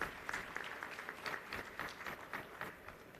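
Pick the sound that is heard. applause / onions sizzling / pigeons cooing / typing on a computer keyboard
applause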